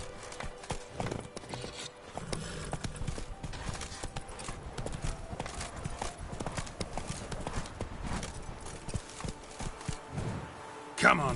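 Roach, the horse in The Witcher 3, gallops with a brisk, continuous rhythm of hooves clopping, moderately loud, as someone speaks briefly over it.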